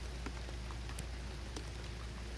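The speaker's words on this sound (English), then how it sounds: "We're getting pretty good rain here." Steady rain falls outdoors at night in a garden, a soft continuous hiss with scattered individual drops ticking on nearby surfaces, fairly faint and with no voices.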